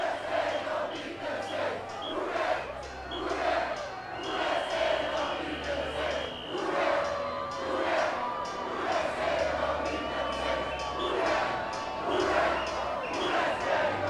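A large crowd celebrating in the streets of New Orleans after a Saints win, a continuous roar of many voices with shouts and whoops, plus intermittent horn tones, all close and loud.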